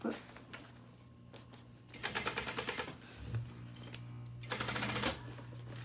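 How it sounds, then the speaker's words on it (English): Hand-cranked sewing machine pushing through a thick fabric seam on a dress, with two bursts of rapid rhythmic stitching clatter, close and moderately loud, separated by quieter pauses and a low steady hum. "push through this thick seam here, hand cranking"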